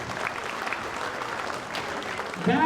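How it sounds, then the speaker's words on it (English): Audience at a middle school winter concert applauds the band boosters, a steady wash of clapping from a crowd held at even volume throughout a brief stretch. "A huge round of applause for our band boosters."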